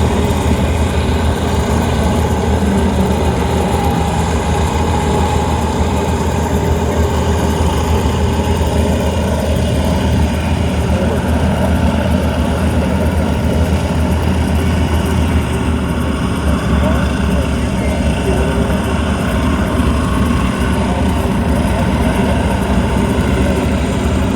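RAAF Roulettes aircraft in formation during a bomb burst manoeuvre at an air show, engines droning loud and steady throughout with broad propeller rumble, no break in the continuous roar.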